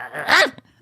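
A single loud, close dog bark with a rising-then-falling whine-like tone, followed by a short soft huff, with no talking over it.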